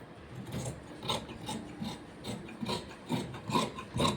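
Scissors cut through blouse fabric during tailoring, a series of soft rasping snips repeating in an uneven rhythm, close and fairly quiet, with no talking.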